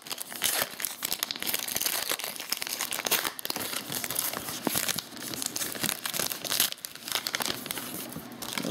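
A 2012 Heritage baseball card pack torn open: continuous close crinkling and ripping of foil wrapper, dense and busy with brief pauses, no talk.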